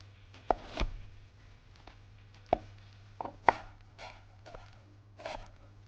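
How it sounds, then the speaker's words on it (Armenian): A kitchen knife chops onion into half-moon slices on a cutting board for a salad, giving a handful of sharp, irregular close taps over a low steady hum, with no one speaking. "Կտրատելու եմ սոխը։"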